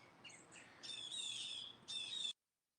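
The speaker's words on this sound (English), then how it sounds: "I hear all the birds and the animals and shit in the back." Birds chirp and tweet in short bright bursts, a few quick calls followed by longer sustained twittering, fairly faint and in the background with no talk.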